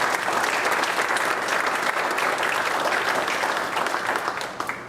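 Sustained audience applause, dense and steady clapping from a crowd for the whole stretch, tapering slightly at the end.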